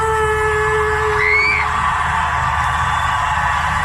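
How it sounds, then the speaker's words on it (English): A large crowd of spectators in one seating sector at Singapore's National Day Parade 2019 screams and cheers together, a loud sustained roar with a few shrill whoops rising above the mass of voices. "So yellow sector, when I say scream, you scream with me"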